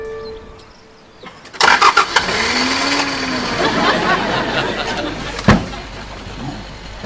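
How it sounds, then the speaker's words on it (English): An old internal combustion engine cranks and catches with a sharp burst, then settles into a steady loud rumbling idle close by, with a faint voice and a clunk heard over it. "You have wonderful touch with the internal combustion engine, Miss Davenport."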